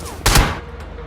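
A single loud burst of gunfire in the mobile battle royale game BGMI (PUBG Mobile), sharp and close, followed by a faint echoing tail.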